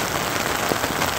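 Heavy rain pours down on a typhoon night, drumming steadily and densely on the surfaces close by. It is a brief, even hiss of countless drops with no voices.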